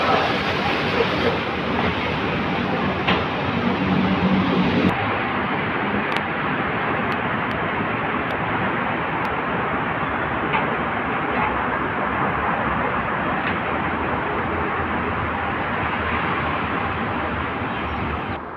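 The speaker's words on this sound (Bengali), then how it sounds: "এটা হলো রেল স্টেশন" Railway station ambience while waiting for a train to the KLCC Twin Towers, a loud continuous rumbling roar of machinery and rail noise with a sharp shift in tone partway through and brief clicks, with no clear talk.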